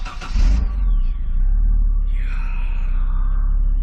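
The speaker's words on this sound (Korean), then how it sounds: "내가 시동 걸어줄게" A 2006 SsangYong New Chairman sedan with about 200,000 km on it, its engine catching with a short loud burst and then settling into a steady, close, low idle rumble with a faint whine above.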